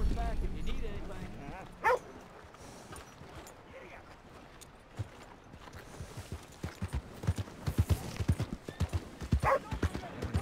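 Horse hooves clip-clopping in Red Dead Redemption 2, soft irregular thuds of hoofbeats fairly close, mixed with quiet game ambience and a voice speaking.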